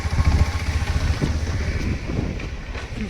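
A motorcycle rides along a forest road at midnight, its engine a low rumble buffeted by heavy wind noise, with a brief pitch change around a gear shift.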